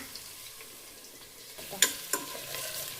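Mint and curry leaves dropped into a pan with onion and green chilli, giving a soft, fairly quiet sizzle with two sharper spatula clinks near the middle, no talking.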